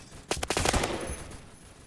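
A burst of rapid M4 rifle gunfire in the Roblox game Phantom Forces cracks out in quick succession, loud and close, then fades into a short tail.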